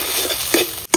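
Ground spice paste dropped into hot oil in a pan while cooking raw banana and banana flower dishes, giving a short close sizzle with stirring scrapes and a brief clatter near the end.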